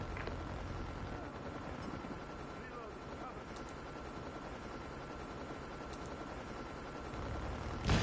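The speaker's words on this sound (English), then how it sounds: "Be advised, hostile stealth chopper inbound." Stealth helicopter in Call of Duty Mobile, a steady broad whooshing rotor drone filling the scene and swelling slightly near the end, with a few faint sharp game effects.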